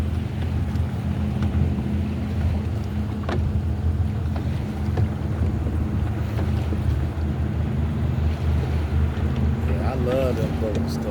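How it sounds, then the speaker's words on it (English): A boat cruising on open water, a steady engine drone mixed with wind buffeting the microphone and splashing water, with people chatting over it throughout. "I love them boats though. I love the boat ride up."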